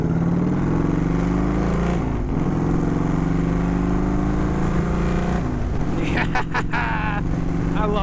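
A motorcycle rolls along Shore Road with the throttle closed, a steady low engine drone and road noise running throughout, with brief sharper rattles near the end.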